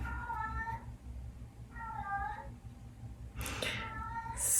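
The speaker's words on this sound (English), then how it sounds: "Can you hear Cat?" A house cat meows three times nearby, each cry short and clear over a low room hum, with a soft rustle near the end.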